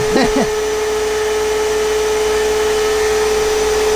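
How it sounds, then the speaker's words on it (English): A fan and a vacuum run in a sandblasting shop, producing a loud, steady whooshing drone with a constant tonal hum, and a brief chirp near the start. "I do have this fan right here blowing, so it blows out the dust from the left corner"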